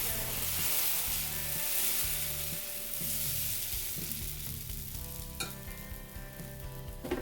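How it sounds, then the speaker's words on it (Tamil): Lentil dosa batter spread with a ladle across a hot, oiled griddle, giving a steady broadband sizzle with a sharper burst near the end. Music plays softly underneath and no one speaks. "அப்புறமா ஒரு கரண்டி மாவு எடுத்து அப்படியே நம்ம விரிச்சிட வேண்டியது தான்"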